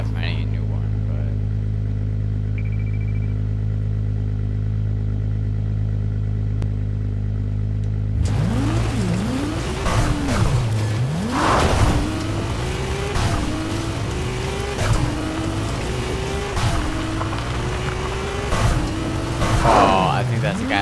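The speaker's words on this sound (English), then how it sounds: "We got the Ferrari." A Ferrari in the Fortnite video game drives and revs near the listener, its engine rising and falling in repeated sweeps over a steady low drone, with tire noise and clatter and a voice talking.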